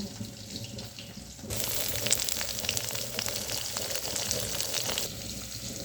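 Vegetable stems hit a hot wok and burst into a loud, hissing sizzle that starts abruptly, holds steady for several seconds, then drops back to a quieter background.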